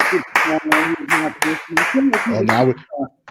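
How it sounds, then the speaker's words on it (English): Rhythmic hand clapping on a sports talk show, honoring basketball player Jimmy Butler: about eight even, close claps in a steady beat, mixed with a voice. "Now we clapping for Jimmy Butler."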